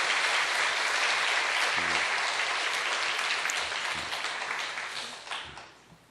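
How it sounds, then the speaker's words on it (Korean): A church congregation applauds newlyweds with sustained, dense clapping from many hands that gradually thins and fades out toward the end. "박수로 축하하겠습니다"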